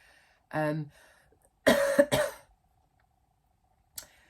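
A single cough, then a louder double cough a second later, close and sharp in a quiet room, followed by a faint click.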